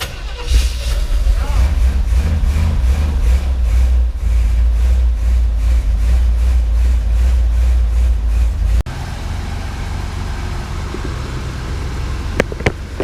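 A 1979 Camaro engine runs with a loud, deep, pulsing idle close by for several seconds, then cuts to a quieter stretch of lower rumble with a few sharp clicks; people talk over it.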